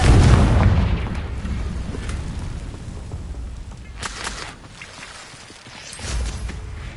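A Confringo explosion spell in the Hogwarts Legacy game, with a heavy boom at the start fading into rumble, then further softer bursts and a thud near the end, no talk.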